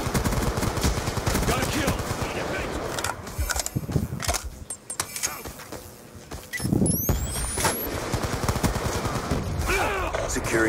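Rapid heavy machine gun bursts in a multiplayer domination match of a shooter video game, loud and dense, nearly continuous across the clip with brief lulls, layered over game effects and some speech.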